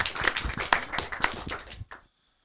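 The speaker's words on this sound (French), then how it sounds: "Merci, on t'applaudit." Audience applause at a live French political comedy show: a burst of claps and scattered cheers for about two seconds, then a sudden cut to silence.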